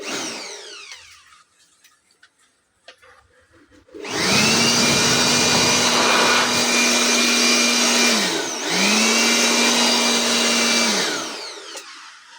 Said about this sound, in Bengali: এই অরেঞ্জ ব্র্যান্ডের গ্লোয়ার মেশিনটা মাত্র এক হাজার টাকা মেশিনটা দেখুন এখন আপনাদেরকে মেশিনটা একটু চালাই দেখাই দেখুন